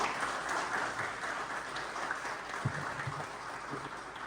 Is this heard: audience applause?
yes